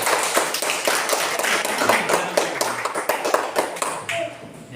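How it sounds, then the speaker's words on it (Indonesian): Students in a classroom clap together for a classmate, a brisk burst of many hands that gradually thins and fades, with some talking underneath. "Oke, tepuk tangan untuk Denny."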